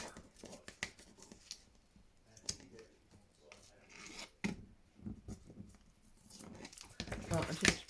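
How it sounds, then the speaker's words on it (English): Scissors trimming thin paper for a junk journal, close quiet snips, rubs and paper rustles in irregular bursts, with soft speech in the background. "I just trim that with scissors because it's too thin."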